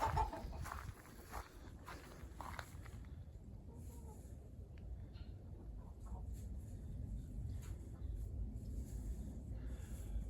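Chickens cluck faintly nearby over low background rumble, a few short calls early on and quieter movement afterward.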